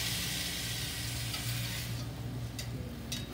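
Peas and prosciutto sizzle steadily in a pan while being stirred, with a few sharp scraping clicks of the utensil near the end, all close and without any talking.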